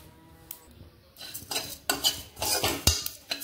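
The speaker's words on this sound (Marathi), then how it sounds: "आता आपल्याला हे मस्त असं ड्राय रोस्ट करून घ्यायचं आहे।" Coriander seeds, fennel and cumin dry roasting in a pan over medium flame, with a spoon scraping and clinking against the metal and a soft rattle of seeds, close and without talk.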